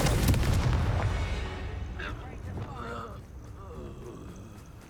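A Confringo spell blast in the video game Hogwarts Legacy: a loud, booming burst of explosive noise at the start that decays over a couple of seconds, followed by quieter rumbling with voices.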